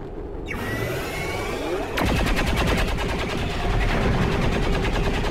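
Rapid bursts of rifle fire from a Briar rifle in the video game XCOM 2, starting as a dense rattle that grows louder and more regular about two seconds in, with steady pulsing shots continuing to the end.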